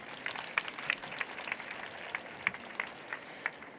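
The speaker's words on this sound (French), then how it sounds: "Et on peut applaudir Joséphine, s'il vous plaît." Audience applause at a departmental children's reading contest final for a young reader, a steady patter of clapping from a modest crowd throughout.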